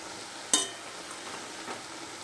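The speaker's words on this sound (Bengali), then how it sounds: "তো এই উপকরণগুলো আমি এবার ভালো করে মিশিয়ে নেব" Chickpea greens cooked with radish and other ingredients sizzle softly in a pan, punctuated by one sharp utensil clack and faint later scraping as they are stirred.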